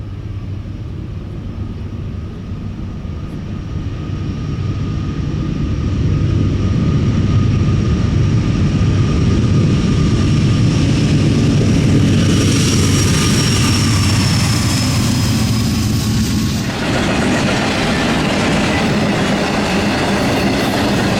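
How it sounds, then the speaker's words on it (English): NS-265, a westbound Norfolk Southern intermodal freight train on the Chicago Line, rolling past close by with loud sustained rumble, clickety-clack of wheels and a high squeal, building and holding for about twenty seconds. "Yet another westbound followed, NS-265, the Berkshire and Eastern Transfer Intermodal."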